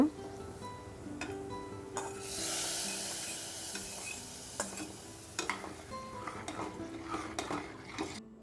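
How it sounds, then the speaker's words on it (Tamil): A spoon scrapes and clinks against a metal pot in irregular strokes while stirring roasted cashews into jackfruit payasam, with a soft sizzling hiss in the background. "சேர்த்துட்டு நல்லா கலந்து விட்டுடலாம்"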